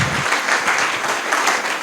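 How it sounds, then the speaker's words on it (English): Steady applause from a crowd, dense clapping that carries on evenly throughout. "How about another round of applause for the Public Library and Will O'Hearn."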